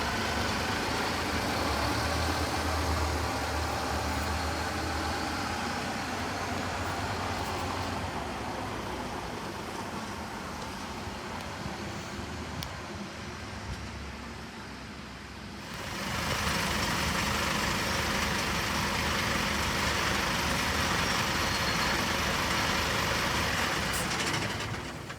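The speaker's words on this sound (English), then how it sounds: "Here is my next bus arriving into Southmead Hospital approximately 10 minutes late, which was the Big Lemon Enviro 200." Big Lemon Enviro 200 bus pulling into Southmead Hospital, a loud continuous diesel engine rumble that eases and then swells again as it arrives, with busy roadside noise around it.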